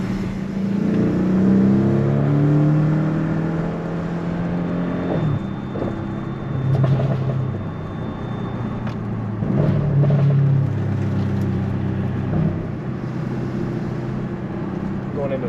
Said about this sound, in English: This red Honda Element in front of us, he's been like railing this thing for what it is